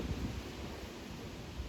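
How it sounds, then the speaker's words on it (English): Outdoor wind buffeting a microphone, a steady low rumbling gust noise with soft rustle, continuous and fairly faint with no talking. "It's kind of windy where I am right now."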